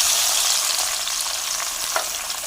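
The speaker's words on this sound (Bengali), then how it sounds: "এবার আমি মাশরুম ভেজে নেব" Bright, crackling sizzle of mushrooms frying in a pan, steady and close, with a few sharper pops.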